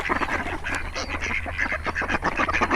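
A group of ducks calling for food, a dense chorus of overlapping honking quacks close by, loud and continuous outdoors.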